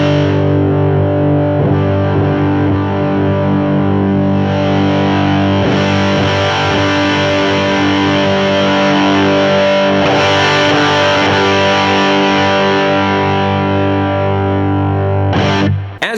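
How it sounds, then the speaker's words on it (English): Distorted electric guitar chord strummed and left ringing, its tone shifting as a tone knob is swept through its range; loud, dense and sustained throughout, with no talking. "I'm just going to strum a chord here and sweep through there so you can hear the range that that knob will give you"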